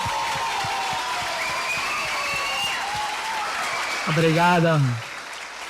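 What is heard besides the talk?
applause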